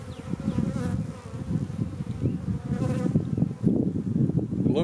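Honeybees from a weak hive buzz close by in a dense, continuous drone, rising and falling slightly as bees move around.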